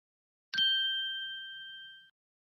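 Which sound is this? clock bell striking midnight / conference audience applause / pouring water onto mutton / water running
clock bell striking midnight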